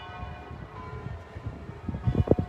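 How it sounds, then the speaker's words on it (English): Church bells ring on a Sunday morning in Jerusalem, distant and soft, with sustained tones and a few louder strikes building toward the end, no talking. "After this feast of bells"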